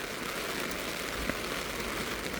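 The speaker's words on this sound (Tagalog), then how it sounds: "Heavy rain." Heavy rain falls in a steady, dense hiss with no breaks, close and enveloping, and no voices over it.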